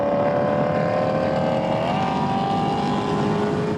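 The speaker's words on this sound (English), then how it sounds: "That's him getting full throttle, right?" A race car at full throttle on a track, likely an ND3 Miata, holds a loud, steady engine drone that climbs in pitch as it accelerates, then cuts off abruptly at the end.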